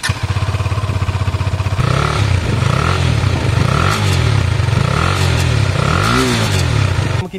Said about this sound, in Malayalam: നിങ്ങൾക്ക് എസോസ് നോട്ടോടെ ഞാൻ കേൾപ്പിക്കാം എസോസ് നോട്ടിൻ്റെ സൗണ്ട്.